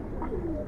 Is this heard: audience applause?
no